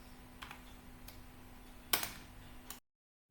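Code being typed on a computer keyboard, a few soft scattered key taps followed by one sharper cluster of clicks, close and quiet over a faint hum before cutting to silence.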